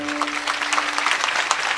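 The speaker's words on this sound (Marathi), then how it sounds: "सतीश महाराज मेंढे या सर्वच गुणीजन महाराज मंडळीसाठी प्रेमाने एकदा टाळी वाजवा" An audience at a rural kirtan in Parkhed, Buldhana, claps together in a brief burst of dense, even applause, with a faint voice over it.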